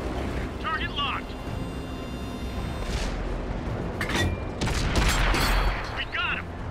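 Tank cannon shots in the World of Tanks video game boom out as a few loud, sharp blasts with rumbling tails, spaced a second or so apart, over a steady engine-like drone.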